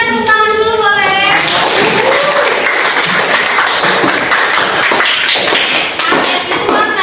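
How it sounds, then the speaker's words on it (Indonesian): Economics students at Universitas Pamulang clap together in a classroom, a dense, steady patter of many hands that fills the room, with a voice briefly audible at the start. "tepuk tangan dulu boleh"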